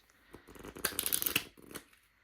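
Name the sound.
shuffling a deck of cards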